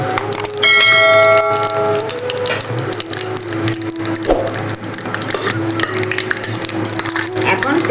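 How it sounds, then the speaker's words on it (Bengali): Whole dried red chillies and black cumin frying in hot oil, a steady sizzle and crackle, opened by a bright ringing metallic clang that fades over about a second, with utensil knocks and low voice-like sounds under it. "এখন আমি তেলের মধ্যে গোটা শুকনো লঙ্কা দুটো করে নিচ্ছি, এখন দিয়ে দেবো।"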